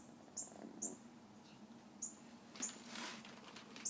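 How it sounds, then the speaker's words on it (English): Quiet, sharp little squeaks from three-week-old Labrador mix puppies being patted, in a loose scattered series, close by, over faint soft rustling and patting. "They make all sorts of noises when you pat them."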